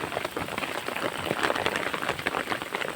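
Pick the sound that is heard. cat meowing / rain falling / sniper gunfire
rain falling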